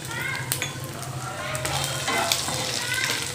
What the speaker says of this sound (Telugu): ఇప్పుడు జీలకర్ర. దీంట్లో మనము ఉల్లిపాయలు యాడ్ చేసుకోవాల్సిన అవసరం ఉండదు. 1-2 ఎండుమిర్చి నేను తుంచి వేసుకుంటున్నాను.